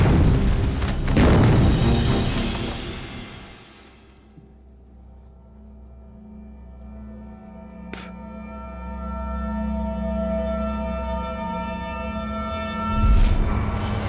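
Gunfire and explosions in a war film, with a heavy boom and rumble at the start, a sharp crack near the middle, and another burst at the end over a low sustained drone.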